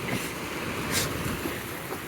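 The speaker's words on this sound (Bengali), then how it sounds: "কি পরিমাণে ঢেউ!" Sea waves roll and wash at Kuakata beach in a steady broadband roar with wind buffeting the microphone, one brief hiss of surf partway through, and no one speaking.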